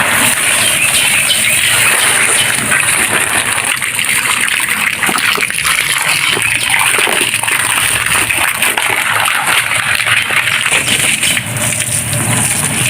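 Floodwater gushes and splashes through a garden with a vegetable patch of leafy greens, a loud, continuous rushing wash close by with no pauses and no one speaking.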